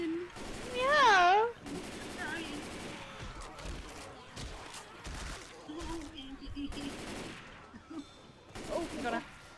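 Gunfire in Left 4 Dead 2: scattered bursts of shots and short automatic volleys, loud and close, mixed with several players talking and laughing over the action.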